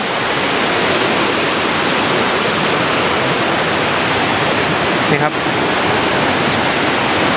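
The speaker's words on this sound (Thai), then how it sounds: "นี่เป็นข้างล่างของน้ำตกครับ" Steady, dense roar of rushing water from a nearby waterfall fills the whole clip, with a brief voice speaking over it.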